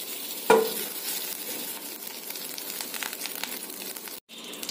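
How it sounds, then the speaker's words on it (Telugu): A tablespoon of butter drops into a hot pan with a sharp hiss, then melts with a soft, steady crackling sizzle close by and no voices. "ముందుగా మనం ఒక pan తీసుకొని అందులో 1 టేబుల్ స్పూన్"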